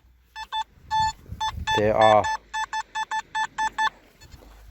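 A Nokta Simplex metal detector sounds a series of short, evenly spaced electronic beeps over a buried toy car, with someone speaking briefly in the middle of the run.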